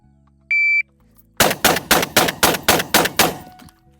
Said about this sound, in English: So my first shot went out faster with the 12 gauge than the AR.